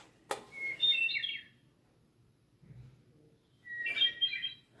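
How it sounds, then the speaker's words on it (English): Hermit thrush song from an exhibit recording: two clear, ringing fluted phrases separated by a pause, each a bright cascade of tones, with a sharp click before the first and a low thump in the gap. "let's hear the hermit thrush."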